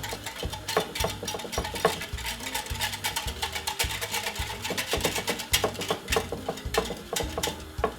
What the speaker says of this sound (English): put some whole milk and give it a whisk